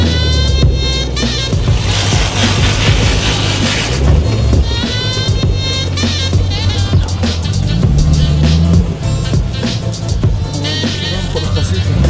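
Chevrolet Camaro ZL1 muscle car climbing a driveway in traction control mode, a loud steady engine drone with rising and falling revs throughout, close by, with people talking over it.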